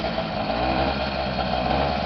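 A small 80cc bicycle engine kit with its stock muffler cap runs steadily close by, a continuous buzzing drone with no pauses and no voices.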